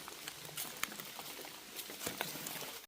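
Rain patters steadily through a forest during mushroom foraging, a soft, continuous patter of drops with scattered louder taps, fairly faint and with no talking.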